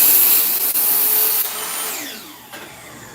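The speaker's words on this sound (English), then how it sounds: "I just was reminded by my miter saw that oak is tougher to cut" A miter saw chops a small piece of oak in a workshop, giving a loud, steady whine with a hard-cutting drone that winds down toward the end, with no voices.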